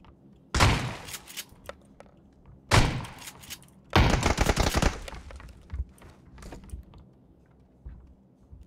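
Sharp gunfire bursts in PUBG (PlayerUnknown's Battlegrounds), three loud volleys about a second apart, the last a longer rattling burst, followed by quieter scattered clicks and thuds.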